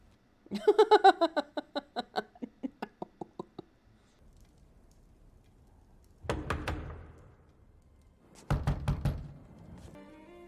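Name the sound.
knocking on a door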